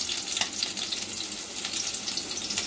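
Chopped green chilli and onion frying with garlic in a pan for leftover-rice fried rice, a steady close hiss of sizzling oil with a few faint scrapes, no voices.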